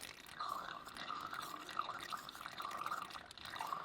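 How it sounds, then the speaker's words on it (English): A car's water pump making a wet, sucking gurgle: a steady liquid churning with small surges, moderately loud and continuous, with no one talking. "It sounded like it was sucking, so it might just be like a weird water pump issue."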